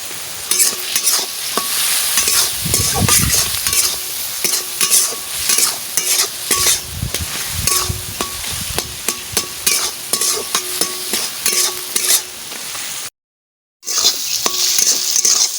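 Garlic and ginger paste with salt and turmeric sizzles and fries in a pan while a utensil stirs and scrapes steadily; the loud frying runs throughout with a brief silent gap near the end.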